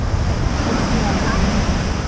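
Heavy water from the Tahquamenon Falls in Michigan's Upper Peninsula, a brown tannin-stained river, pours in a steady, dense roar with no break.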